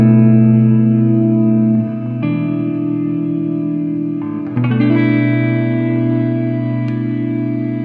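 Sustained electric guitar chords washed in a huge, swelling Black Hole reverb from an Eventide H9 pedal that lingers and blooms between strums, no voices.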